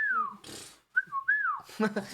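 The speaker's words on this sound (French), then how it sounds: "je me permets de siffler un peu" A person whistles a few sliding, drawn-out notes, near and clear, with short breathy pauses between them.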